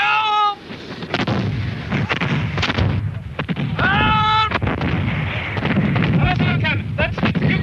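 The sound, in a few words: 18th-century artillery cannon fire at Culloden battle reenactment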